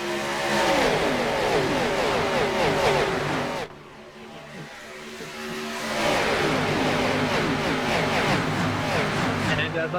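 NASCAR race cars roar past at Daytona, engines loud and close with rising and falling passes, dipping briefly to a quieter stretch before the pack returns at full volume; a voice talks over the noise.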